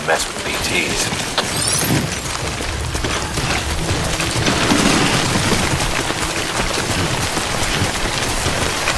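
Heavy rain falls in the game Death Stranding, a dense, loud, continuous hiss of drops pattering on surfaces for several seconds, with faint low rumbles and mechanical clatter beneath.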